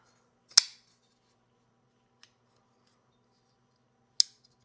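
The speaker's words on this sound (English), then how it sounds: "You can hear the close. It's nice and clicky." A Kubey folding knife blade snaps shut with a sharp, crisp click, then a faint tick and a second clean click a few seconds later, close and otherwise quiet.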